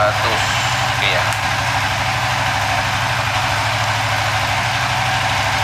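An engine being tuned with an Apitech ECU idles steadily and close, a loud, even low rumble with a constant rhythmic pulse that does not change in pitch. A brief higher tone and a faint click rise over it near the start.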